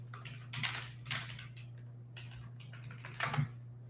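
Fast typing on a computer keyboard during a live stream, a steady patter of close clicks with a few louder bursts of keystrokes over a faint constant hum, no talking.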